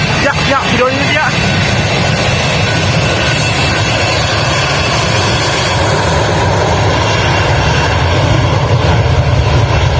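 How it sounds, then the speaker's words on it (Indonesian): A passenger airplane taking off roars loudly and continuously from nearby, a dense broadband jet rumble holding steady throughout, with a few brief mechanical clicks near the start. "kita nemu satu pesawat yang bakal lepas landas"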